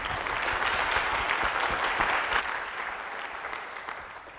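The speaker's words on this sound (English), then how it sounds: "I really want to give her a round of applause" A conference audience applauds at the Digital Humanities closing ceremony, a dense, steady wash of many hands clapping that holds for several seconds and tapers slightly toward the end, with no voices over it.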